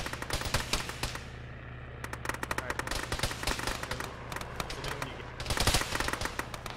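Sustained automatic gunfire and scattered shots crack through a tactical military shooter battle, dense bursts clustering at the start, middle and end over a steady low rumble.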